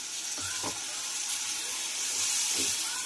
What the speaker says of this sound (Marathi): त्यामध्येच थोडं पाणी घालून आपल्याला हे पाणी घालायचं आहे